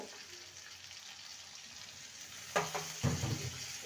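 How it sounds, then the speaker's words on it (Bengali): Poppy seed paste sautéed with a little water for a bitter gourd dish gives a soft, quiet sizzle, then a louder burst of stirring and scraping near the end, with no voices. "ভালো করে কষিয়ে নেব"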